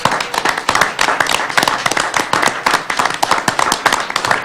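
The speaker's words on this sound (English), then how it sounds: "Okay, now everybody clap." A crowd of people claps together in a dense, steady patter of hand claps. The applause is loud and close and runs continuously with no voices over it.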